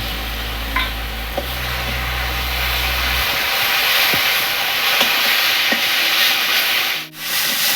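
Masala fries in a pan with tomato added, giving a dense, close hiss and sizzle with a few soft scrapes of stirring; a low rumble fades out early on.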